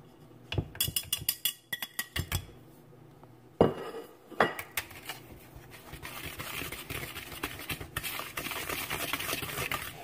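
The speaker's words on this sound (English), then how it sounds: "Now I'm going to combine all of my dry ingredients and mix them well with a whisk" A whisk mixing dry ingredients for a chicken tamale pie in a bowl, giving quick bursts of clicking, tapping strokes against the bowl that start in clusters, then settle into a faster, steadier rattling, close and without talk.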